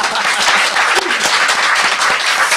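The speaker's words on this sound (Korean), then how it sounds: "한결의 덕분에 박수 한번 부탁합니다" Audience applause at a live talk event, loud close clapping from a crowd with distinct sharp hand claps standing out in a steady burst.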